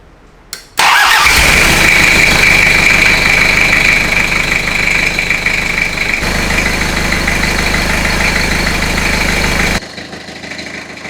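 A 30-year-old Toyota 4x4 engine cranks, catches and settles into a loud, steady idle close by, then cuts off near the end.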